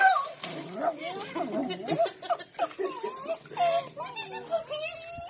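A puppy whines and whimpers in high, wavering cries, repeated in short bursts up close, mixed with soft voice-like sounds.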